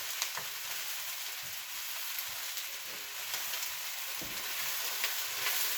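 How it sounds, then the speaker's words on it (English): Half-moon sliced onions fry in a pan with a steady, fairly quiet sizzling hiss and scattered soft crackles and stirring taps, heard close up with no voices. "I have added in the onions, like the half moon sliced onions."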